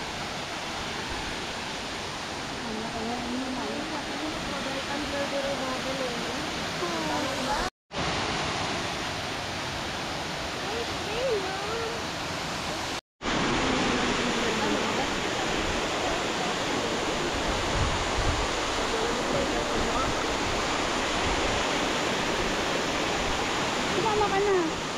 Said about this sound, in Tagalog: San Umantad Falls.